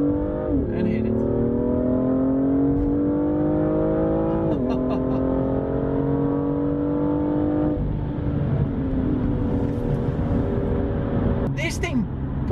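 A BMW M2 accelerates hard at high RPM. The engine note climbs steadily through several gears, dipping briefly at each shift, and is loud and close throughout.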